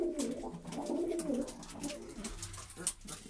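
Young Istanbul breed pigeons coo softly in a loft, with several low, rolling calls close up against faint background rustling.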